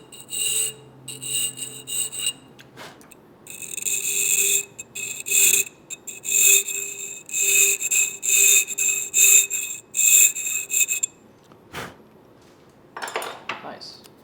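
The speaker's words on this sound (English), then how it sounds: "What I need to do now is just basically file all the corners square." Hand file rasps across the corners of a chef's knife handle made of rare wood, in repeated bright scraping strokes with short pauses between them and a few knocks.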